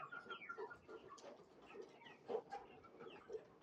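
Free-range desi hens cluck and chatter in scattered short calls on a farm, several birds at moderate distance with uneven bursts and a louder peak near the middle.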